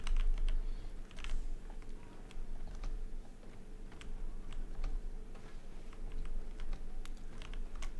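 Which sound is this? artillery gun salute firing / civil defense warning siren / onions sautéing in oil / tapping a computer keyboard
tapping a computer keyboard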